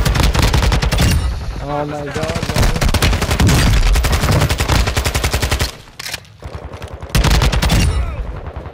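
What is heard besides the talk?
gunfire in Call of Duty Warzone 2 video game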